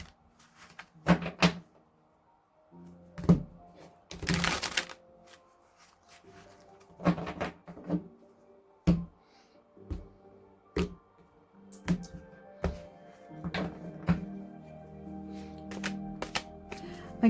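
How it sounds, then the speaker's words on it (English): Tarot cards are shuffled in short riffling bursts, with soft taps and rustles in between, close and quiet, no talking. "let's just shuffle the cards a little bit."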